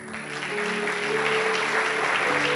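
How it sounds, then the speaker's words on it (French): Audience applause at a French gala dinner, broad steady clapping that swells within the first half second and holds loud and even through the end, with no voices on top. "je voudrais qu'on l'acclame"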